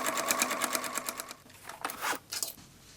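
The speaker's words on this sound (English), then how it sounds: "stitching the side seams from the wrong side on the sewing machine" A sewing machine stitches tote bag side seams in a fast, rapid rhythm for over a second, then stops, followed by a few soft rustles and clicks.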